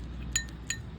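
A spoon clinks twice against a bowl while mixing a curd face pack, two short bright taps about a third of a second apart over a quiet background.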